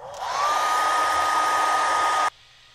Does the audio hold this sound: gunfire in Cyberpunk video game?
no